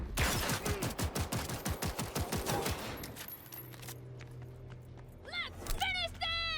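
Rapid automatic gunfire in a video game shooter rattles out in a fast, loud burst for a few seconds, then stops, leaving quieter game sounds with a few short chirping effects.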